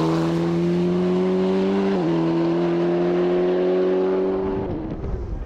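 An Alpine A110 race car in the GT Sport group at the Dunières hill climb roars past loud and close, its engine note holding steady, stepping briefly at a gear change, then fading as it moves away.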